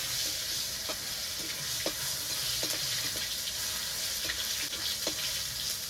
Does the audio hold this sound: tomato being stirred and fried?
yes